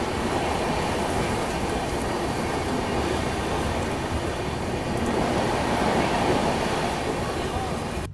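The Rajdhani Express pulls out of New Delhi station with a steady, continuous rumble of rolling wagons and rail noise, heard from on board with faint voices in the background.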